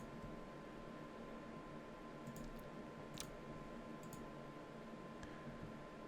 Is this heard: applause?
no